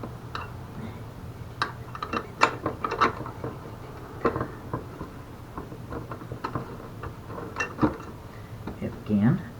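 A ratchet tightens bolts back onto a car's front clip after bumper removal, giving scattered close metallic clicks and short ratcheting bursts in an irregular rhythm, mixed with light clattering and a voice talking over it.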